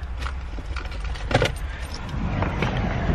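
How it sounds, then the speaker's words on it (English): Keys jangle in a car while getting ready to drive on a snowy road trip, a few bright metallic clinks and rattles close by over a steady low engine and road rumble. "let me get my keys really quick"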